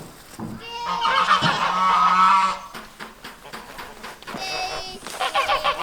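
Large farm geese honk loudly and close by on a country homestead, a long run of harsh overlapping calls followed by a second burst of honking, with people talking briefly between.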